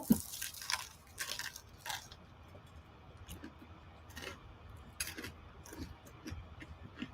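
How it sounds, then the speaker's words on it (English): Someone eats a crunchy ham and cheese bagel up close, making a series of sharp, irregular crunching bites with quiet chewing between them. "We got the ham and cheese here on the bagel. There it is, and it's really crunchy."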